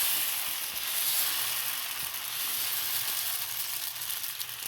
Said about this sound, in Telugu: ఇప్పుడు దోశ వేసేసుకోవడమే ఇలా ఒక గరిక పిండి అనేది వేసేసుకొని ఇలా ఈ విధంగా స్ప్రెడ్ చేసేసుకోవాలి